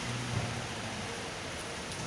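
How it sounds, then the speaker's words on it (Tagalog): Heavy rain pours down at ATC Town Center in Alabang, a dense, unbroken hiss of falling water close by, steady and loud with no voices over it. "Ang lakas ng ulan."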